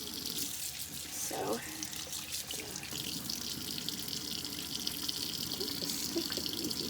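Water runs steadily from a tap during a homemade soap lather test, a continuous hissing stream close to the microphone, with a brief spoken word over it.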